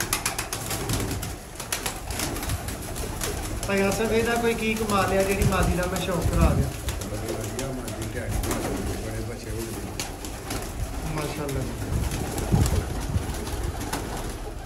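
Pigeons coo in a loft of young flying pigeons, soft rolling calls rising in the middle of the stretch, close by, with someone talking over them almost throughout and faint clicks and shuffles around.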